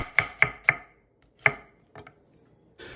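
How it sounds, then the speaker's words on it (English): A knife slices an onion into julienne strips on a cutting board, giving three quick crisp chops in a row, a pause, another chop, then softer taps and a final scrape. "turn your onion and begin slicing vertically all the way through the onion"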